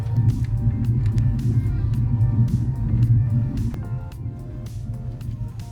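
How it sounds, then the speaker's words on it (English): A car driving along the coast road in Kingston, Jamaica, a steady low engine and road rumble heard from inside the car with no voices. "So we're just driving along the coast road."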